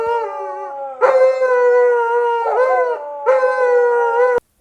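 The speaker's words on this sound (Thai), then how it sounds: "เพราะว่าเสียงหมาหอน" Several long, loud, wavering dog howls at dawn in a rural Thai home village, one drawn-out cry after another with brief gaps between them.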